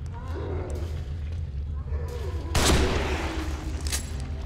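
Shotgun and sniper rifle blasts in The Evil Within horror game, with one sharp loud shot near the middle standing out over rumbling low game ambience and a fainter report near the end.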